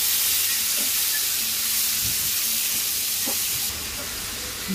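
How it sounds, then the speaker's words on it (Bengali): Onion and dried red chili tempering is poured into boiled long beans, a steady broad hiss and sizzle filling the whole clip at close range with a few faint knocks underneath. "পেঁয়াজ আর শুকনো মরিচ দিছি, এটা ঢেলে দিব এটার মধ্যে।"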